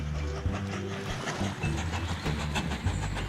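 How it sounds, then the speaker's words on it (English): A small coal train rumbles along in the Mashinky rail-building game, with a steady engine chug broken by periodic clicking pulses and short hissing bursts, heard fairly close. "there goes an empty coal train"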